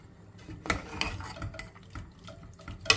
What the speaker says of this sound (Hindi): ये चूरा की हुई प्याज ये डाल रही हूँ